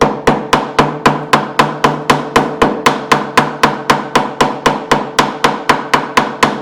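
A hammer taps frets into the fretboard of a Japan-made Aria LW12HB guitar during a partial refret, about three crisp, even strikes per second in a steady, close rhythm.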